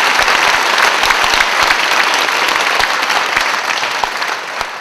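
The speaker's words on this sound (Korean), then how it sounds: "그 어깨를 좀 가볍게 해주시는 격려의 감사의 박수 부탁드리겠습니다." Church congregation at a Korean revival meeting breaks into loud, sustained applause of thanks and encouragement, a dense clapping wash with distinct sharp individual claps, tapering slightly near the end.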